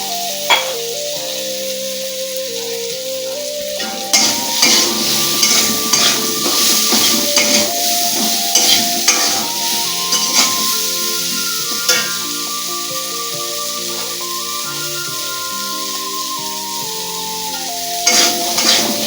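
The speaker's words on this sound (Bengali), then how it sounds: "আলুটা আমার হালকা হালকা ভাজা হয়ে গেছে" Potatoes stir-frying in a pan for a Bengali banana-flower curry with coconut and prawns, a steady loud sizzle with repeated scraping and clinking of a spatula against the pan throughout.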